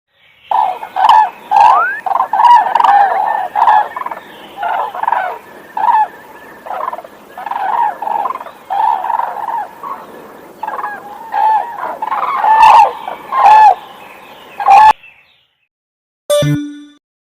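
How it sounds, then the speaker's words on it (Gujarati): A crane calls repeatedly in loud, harsh, gobbling bursts at close range, a long sequence of rhythmic cries with short gaps, ending in a brief silence and a final clipped sound. "આ છે બગલો જેને અંગ્રેજીમાં કરેન કહે છે બાળકો હવે આપણે બગલોનો અવાજ સાંભળીએ"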